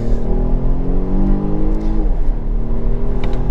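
A 2021 Volvo XC60 T8 Polestar Engineered plug-in hybrid accelerates hard, its engine note rising steadily and loud from inside the cabin, with a brief dip and shift partway through before the drone climbs again.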